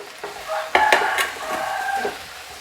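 Valarai greens being stirred and sautéed in a pan over high flame, with sharp clinks and scrapes of a spoon against metal over a soft sizzle, close and fairly brief.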